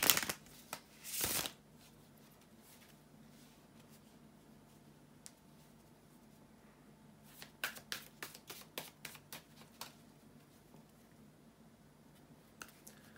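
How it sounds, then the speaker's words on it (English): Tarot cards being shuffled up close: a loud riffle at the start, then a run of quick crisp snaps and flicks, with quiet pauses in between. "bear with me a second, guys, to shuffle the cards as best as I can"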